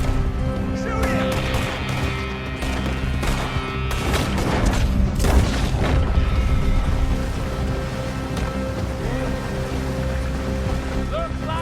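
Gunshots crack out in the Red Dead Redemption 2 video game, a cluster of sharp bangs in the middle over a continuous rumbling background, with shouting voices around them.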